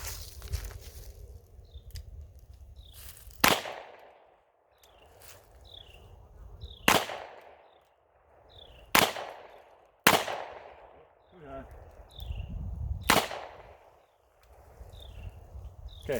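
Five sharp, loud gunshots from a Smith & Wesson .38 Special revolver fired outdoors, spaced irregularly a few seconds apart, with quiet rustling and faint insect-like background noise between the shots.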